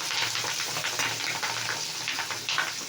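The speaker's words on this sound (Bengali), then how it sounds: "ভাজা হচ্ছে" Egg frying in a pan, a steady close crackling sizzle with stirring scrapes running throughout, no voices.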